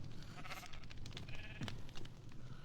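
Sheep bleat in a video game, with several quiet bleats rising out of a dense, steady ambient bed of game sound, no talking over them.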